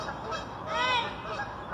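Pet birds squabbling, giving harsh honking, goose-like calls that swell and fade over a couple of seconds close by, with no speech.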